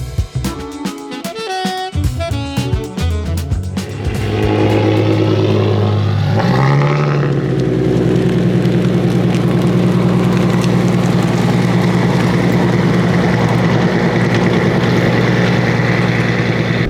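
Engines of a Subaru GC8 STI and a Nissan 350Z racing: after some loud clatter, a heavy, steady engine roar builds and holds, loud and close, with a rising pitch around the middle that settles into a sustained drone.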